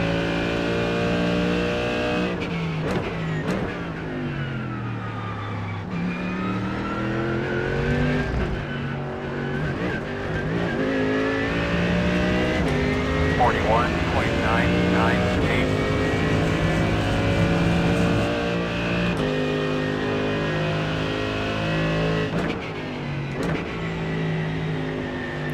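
A Mercedes GT3 race car engine in the iRacing sim at Magny-Cours drones loudly and continuously, rising and falling through repeated revs and gear shifts with sharp downshift blips, close and dominant throughout.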